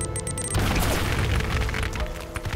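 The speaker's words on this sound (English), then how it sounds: "Could you not throw grenades?" A grenade explodes in the Uncharted video game as a deep rumbling boom that erupts after a brief lead-in and then decays into a rough, crackling roar for a couple of seconds.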